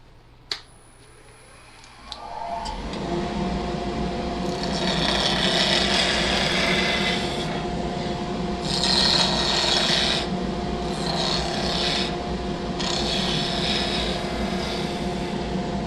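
A skew chisel takes a planing cut along a spinning wood lathe blank, a continuous close rasping hiss that starts after a couple of seconds and holds steady with slight surges.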